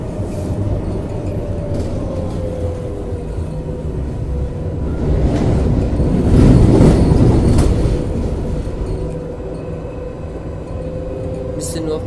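A Munich subway or tram train runs in a video game simulator, giving a continuous rumbling drive with rail clatter that swells toward the middle, while someone talks over it.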